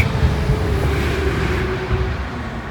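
Road traffic flows past outside during a daytime walk around outdoor Christmas decorations. It makes a steady, fairly loud broadband roar with a faint hum, and no voices are heard over it.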